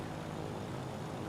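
A propeller aircraft engine drones in the video game Ground of Aces, a steady faint broadband hum with no variation, heard alone without voices.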